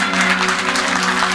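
Audience applauding poet Ramin Təmkin at a meyxana gathering: steady, dense clapping that fills the short stretch at an even level, with no break and no voices on top.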